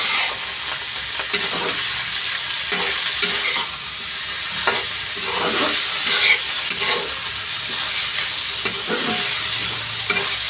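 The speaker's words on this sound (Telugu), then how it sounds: "ఇప్పుడు మొత్తం ఫ్రై చేసుకోవాలండి." Potato pieces fry in an iron pan (bandi), giving a loud, continuous close-up sizzle and hiss, broken by faint scraping stir sounds and with no voices.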